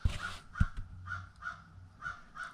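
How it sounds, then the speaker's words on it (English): Crows caw repeatedly outdoors near a driveway car repair, with about seven harsh calls coming in an uneven rhythm at moderate distance, and a couple of sharp knocks underneath. "Crows are crowing."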